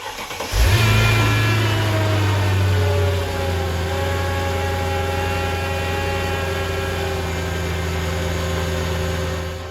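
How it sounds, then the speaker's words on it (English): A powerful Mercedes-AMG M113K supercharged V8 engine cranks and catches on a cold start, revving high briefly before settling into a steady, loud idle with a whining tone from its loud oil pump. "M113K engines, like in the E55, have a loud oil pump which you really hear on cold starts."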